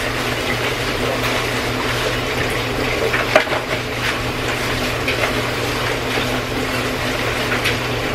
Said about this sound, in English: I poured the hamburger grease in this. So I'm gonna dump that out.